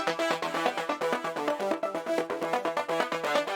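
A buzzy, saturated synth plays a rapid pulsing arpeggio with a fizzy, gritty edge, loud and continuous throughout.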